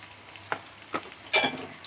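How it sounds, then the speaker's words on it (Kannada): Chopped onions and green chillies frying in hot oil for egg rice: a low sizzle broken by three short scraping stir bursts, the last one loudest, close by with no talking. "ಎಣ್ಣೆ ಕಾಯಿಸಿ ಈರುಳ್ಳಿ ಹಾಕೊಂಡದು ಈರುಳ್ಳಿ ಹಸಿರು ಮೆಣಸಿನ್ಕಾಯಿ"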